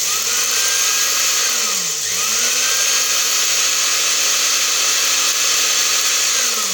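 An electric grinder blends nahari masala after turmeric and citric acid go in. Its steady, loud motor whine dips and winds back up near the two-second mark, then runs on evenly.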